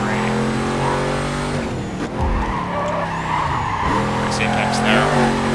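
Car engine in the racing game Need for Speed Carbon, a steady loud drone with shifting pitch and tire skids, close and continuous, with a voice talking over it.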